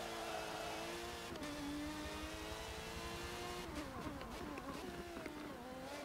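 A race car engine from the Dell Gaming Car Pack in Forza Motorsport 7 revs hard and accelerates, its pitch climbing through gear changes in a loud, continuous snarl.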